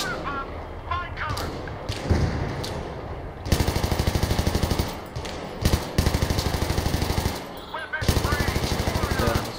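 Rapid automatic gunfire in the shooter Battlefield 3 during co-op play, several loud sustained bursts with brief pauses, dense and close, amid battlefield noise and occasional voices.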